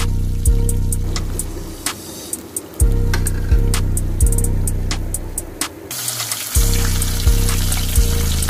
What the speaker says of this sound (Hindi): एक एक करके बाकी मछलियों को भी इसी तरह से फ्राई कर लें